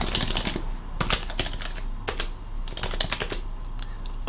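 Typing on a computer keyboard while entering package install commands on an ArchLinux system, bursts of rapid close clicks separated by short pauses, with no voices.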